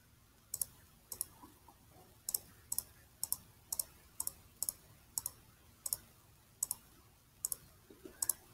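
A computer mouse clicks close by in a quiet room, about a dozen sharp, light clicks spaced roughly half a second to a second apart, some as quick double taps.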